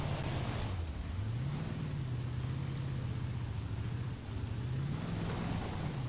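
A 1973 Range Rover in Forza Horizon 4 reverses up a hill, its engine droning steadily with the revs rising and falling under a constant rushing noise.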